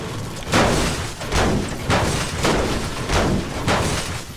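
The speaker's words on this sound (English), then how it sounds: "Yo, I'm already hearing gunshots." Gunfire in the video game Fortnite comes as a series of dull booming thumps, about six evenly spaced shots at moderate distance, with no one talking over them.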